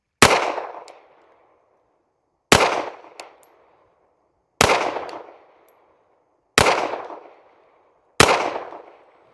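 An S&W Bodyguard 2.0 pistol firing Fiocchi Defense Dynamics ammunition, five sharp, loud shots spaced about two seconds apart, each with a short ringing decay.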